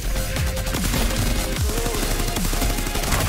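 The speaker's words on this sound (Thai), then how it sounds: "คนยิงหลังผมคนยิงหลัง" Gunfire in the mobile battle royale game Farlight 84, with rapid repeated shots over dense game sound and music, loud and continuous throughout.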